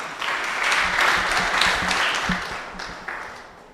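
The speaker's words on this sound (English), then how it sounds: "A round of applause, please" Applause from an audience at a school sci-tech innovation challenge closing ceremony, welcoming a bank branch manager to the stage; steady broadband clapping that holds for several seconds, then thins and fades near the end.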